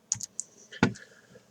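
A few sharp computer clicks: a mouse click followed by a single firm press of the Enter key on a keyboard, close and dry, with quiet pauses between.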